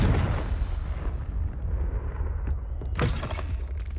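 A Confringo blasting spell in Hogwarts Legacy bursts with a loud explosive boom at the start, then a rumbling tail and a second sharp blast about three seconds later, without speech.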